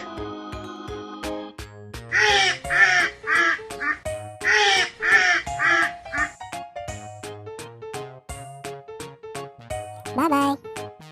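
A duck quacks in two quick bursts of loud, rasping calls, set against a cheerful music track with plinking notes.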